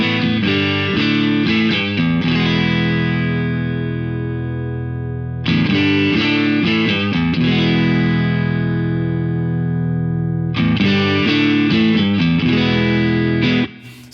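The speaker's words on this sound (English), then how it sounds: "So it's not so much distortion, it's just this sort of saturation." Electric guitar through a tape saturation plugin at 50% gain strums chords in three repeated phrases, each hit ringing out fat and warm with mild crunch, played alone.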